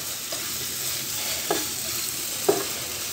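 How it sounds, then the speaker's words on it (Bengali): Onion fries in a small amount of oil with a pinch of salt, a soft continuous sizzle close by, with two brief spoon clinks against the pan. "আমি খুবই কম তেলে এটা পেঁয়াজটা ভাজতে নিচ্ছি।"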